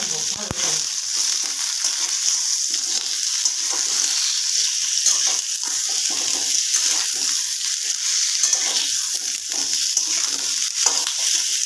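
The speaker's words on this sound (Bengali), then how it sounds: "পটলগুলো লাল করে ভাজা হয়ে গেছে" Potatoes and pointed gourd frying in oil in a pan, a dense, continuous sizzling crackle held at steady loudness throughout, close up with no talking.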